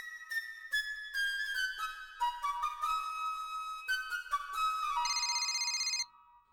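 A phone plays a bright electronic ringtone melody of rising and falling tones, loud and alone with no voices, in a household scene; the tune repeats in short phrases before stopping abruptly.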